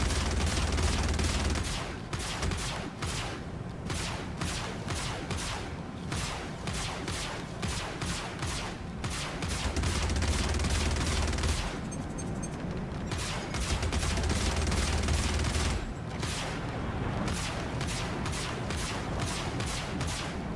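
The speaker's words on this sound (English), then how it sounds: "Shield under fire." Sustained weapons fire hitting a ship's shield in the Star Citizen video game, with rapid repeated bursts of gunfire-like impacts and booms running loud and dense throughout, pausing only briefly.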